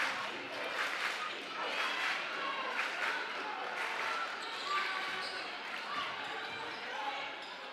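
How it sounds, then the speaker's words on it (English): Crowd at a girls' 5A high school basketball championship cheers for the Trojans, a sustained roar with claps and shouts echoing through the gym, heard faintly at a distance under a commentator's voice. "You can hear the crowd getting into this for the Trojans."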